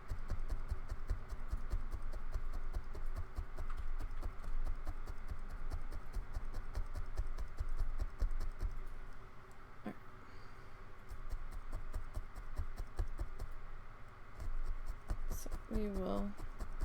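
Rapid, steady tapping of a felting needle into wool, like fast typing, continues throughout, with a person speaking briefly near the end.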